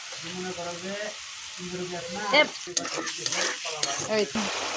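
Curry paste with chili and turmeric frying in a pan, crackling sizzle and stirring scrapes heard near, with someone talking over much of it.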